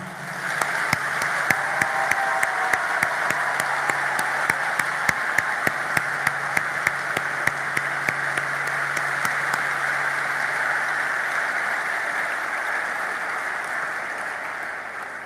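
A large crowd applauds steadily at a graduation ceremony in Haiti, dense clapping at a constant level with a few sharper claps standing out.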